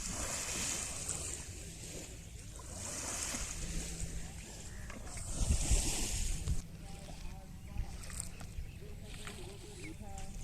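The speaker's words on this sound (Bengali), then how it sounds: "আর এখানে যে পানির আওয়াজ আসছিল অনেক সুন্দর" Water waves lap at a riverside sandbank at Raita sand ghat, a steady broadband wash that swells and ebbs, with wind buffeting the microphone and faint voices in the background.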